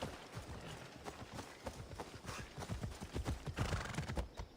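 Hooves clip-clop quickly as a horse gallops in Assassin's Creed Odyssey, with a whinny mixed in. The hoofbeats are steady and fairly quiet over a hissy game background.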